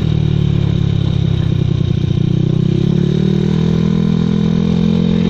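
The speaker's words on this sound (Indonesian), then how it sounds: "Semoga kalian puas dengan suara knalpot AHM Vario, AHM di Vario 110 karbu" A Honda Vario 110 carburetor scooter fitted with a stock AHM racing exhaust runs close and loud, a steady throbbing engine note that rises slightly midway and then holds even, with no talk.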